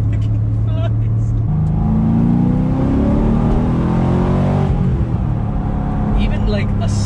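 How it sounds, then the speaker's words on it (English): Corvette C6 Z06 pulling hard from second gear, its engine note rising steadily in pitch with a moderate, not overly loud exhaust, close and continuous with a brief shift-like break partway through. "Even like a slight pull like that from second gear, it really does pick up, and the exhaust is not too loud."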